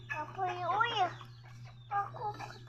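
Chickens cluck and squawk near the listener as a child feeds them, with a steady low hum underneath and brief pauses between bursts of calls.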